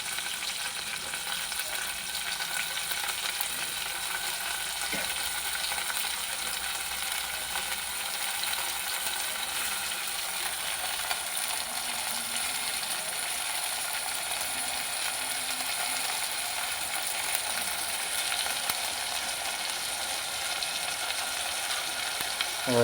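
Green onion and garlic frying in oil for a Gujarati fire-roasted baingan bharta, a steady broadband sizzle running the whole time with faint clinks of stirring, no voices.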